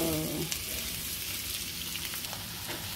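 Onions frying for onion soup, a steady broadband sizzle with faint crackles and pops throughout, no voices.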